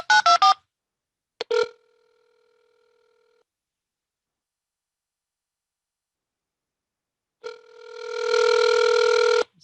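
Rapid touch-tone beeps dial a phone number. After a short pause and a faint tone, a loud steady telephone ring follows, with no speech.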